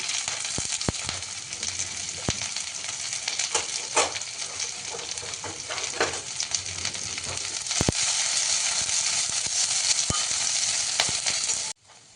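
Onion, green chili, ginger, cumin and curry leaves fry in a pan with a steady loud sizzle, broken by occasional clicks and scrapes of stirring, then cut off abruptly.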